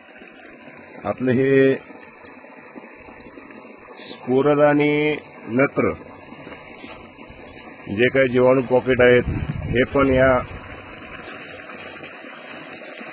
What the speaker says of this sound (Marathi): हे पाणी जीवामृत आपल्याला पाण्यासोबत द्यायचं आहे